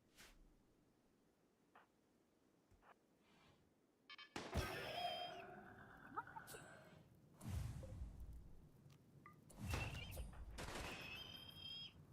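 A turret and a scorcher weapon firing in a video game, with sudden loud bursts and whooshing blasts breaking a quiet stretch, then repeated shots mixed with talk.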